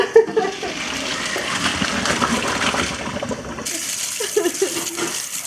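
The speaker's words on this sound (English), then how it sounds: "take the pasta to drain it" Pasta water pours steadily into a sink as cooked pasta is drained, a continuous rushing splash with a brief clatter near the start and a quieter tail at the end.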